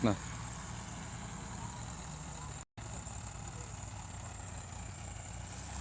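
A tractor stuck in a sugarcane field idles with a steady low engine drone, continuous and fairly close, with a brief dropout partway through.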